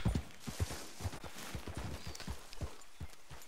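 Horse hooves pound rhythmically in the Western video game Red Dead Redemption, a steady galloping clip-clop close by and fairly loud, heard on its own without talk.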